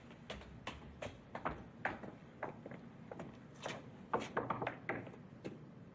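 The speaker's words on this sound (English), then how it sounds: "Maybe you've forgotten the secret knock." A patterned knock on a door, several quiet irregular raps in clusters with short pauses between, fairly faint and close, with no talking.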